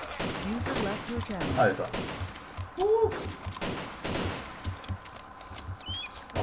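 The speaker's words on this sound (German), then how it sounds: "Oh, ich habe mehr geschossen." Gunfire in the DayZ video game, several sharp shots scattered through the scene, with a player voice talking over it and some bird-like chirps in the background.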